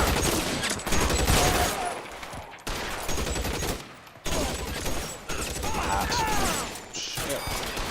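Gunfire rings out in L.A. Noire in repeated loud volleys of close shots, some in rapid bursts, broken by short pauses and abrupt cuts.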